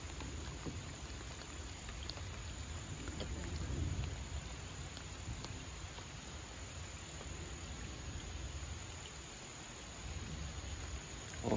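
Steady rain falls outdoors around a canoe on a river, a continuous soft broadband hiss of drops with a slight swell partway through and no talk.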